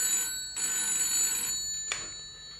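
An old-fashioned telephone bell rings in a French radio crime drama, two long electric trills separated by a short pause, then a brief click, moderately loud and alone.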